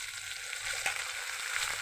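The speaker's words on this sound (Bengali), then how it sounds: "আমি এখন পেঁয়াজ আর কাঁচামরিচ কাটামরিচ দিয়ে দিয়েছি, ভেজে নেব এটা" Onion and green chili frying in a pan with a ginger-garlic-cumin paste, giving a steady close sizzle with a few soft stirring ticks, heard alone with no talking.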